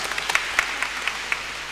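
A church congregation gives a short burst of applause during a Catholic Mass homily, a soft continuous patter of many hands with a few sharper claps standing out, somewhat distant.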